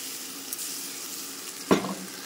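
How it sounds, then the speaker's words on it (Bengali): Ginger garlic paste sizzling in hot oil with browned onions in a pan, a steady close crackle with one sharp stirring scrape near the end. "তারপর এটা ভালো করে ভেজে নেবো লাল লাল করে"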